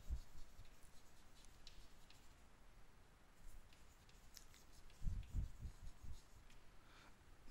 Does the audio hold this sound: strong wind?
no